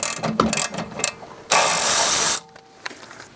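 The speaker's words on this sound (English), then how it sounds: "you can remove the bolt holding the hose right here." A ratchet works a brake hose bracket bolt on a Honda Accord, giving close, sharp clicking bursts with a longer rapid ratcheting run in the middle, then a few faint clicks.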